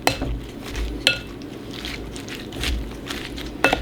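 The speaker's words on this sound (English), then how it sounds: "So we have our Vegenaise, now our garlic powder, the pickle juice, and let's crack in some pepper. And I'm just going to mix this really well." Utensil mixing Vegenaise, garlic powder, pickle juice and pepper in a bowl, giving a few sharp clinks against the bowl between softer scraping and stirring, close up with no talk.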